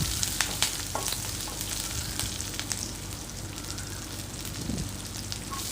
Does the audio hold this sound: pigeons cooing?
no